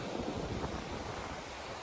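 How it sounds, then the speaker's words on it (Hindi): Midday wind blows through the mountains of the Langtang Valley in Nepal, a steady, full roaring rush that fills the whole stretch evenly without breaks. "हवा चलने लगी है, 12 बजे के बाद पहाड़ों में होता है नॉर्मली ऐसा"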